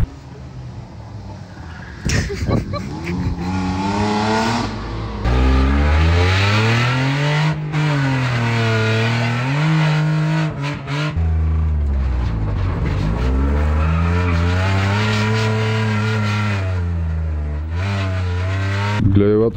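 A race car at an Osogovo event revs its engine hard through rising and falling gear pulls, loud and close, with a few sharp bursts mixed in. Voices are heard faintly in places.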